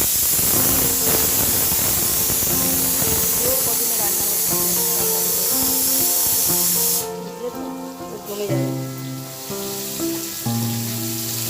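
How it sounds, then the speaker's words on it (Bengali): Slices of bitter gourd (uchhe) fry in hot oil with a loud, continuous hissing sizzle for about seven seconds, then the sizzle drops away, leaving softer tonal background sounds. "তো চলো উচ্ছেগুলো ভেজে নিই।"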